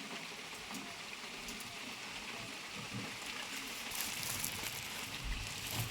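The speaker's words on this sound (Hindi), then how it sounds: "और अब बारिश तेज हो गई है" Heavy rain falls steadily in a hilly rural setting as a dense, even hiss of drops on surfaces that swells slightly louder toward the end, with no voices.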